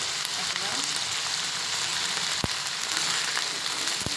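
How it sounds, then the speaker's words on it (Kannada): Potatoes fry in a pan with a soft, steady sizzle and light crackle, joined by a couple of sharp clicks or knocks partway through; no talk is heard. "ಆಲೂಗಡ್ಡೆ ಚೆನ್ನಾಗಿ ಫ್ರೈ ಆಗಬೇಕು"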